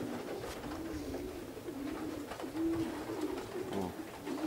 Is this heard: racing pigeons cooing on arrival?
yes